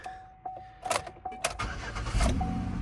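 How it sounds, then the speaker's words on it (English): A race truck's engine starts with a few clicks and jingles, then catches in a quick cranking burst and settles into a close, rumbling idle. "It starts right up"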